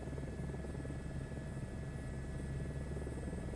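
A helicopter flies in Microsoft Flight Simulator 2024 with a steady, even rotor and engine drone, constant and moderately quiet, with no voices.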